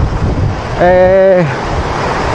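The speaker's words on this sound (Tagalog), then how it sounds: "Ayan, lakas ng alon mga master." Strong waves wash onto a lake shore at Pulong Bae with heavy wind buffeting the microphone, and a brief voice-like tone rises in the middle.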